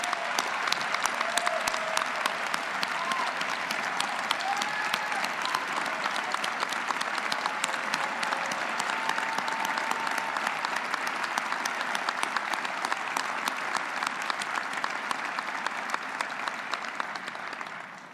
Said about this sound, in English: please join me in a round of applause for Mayor Reed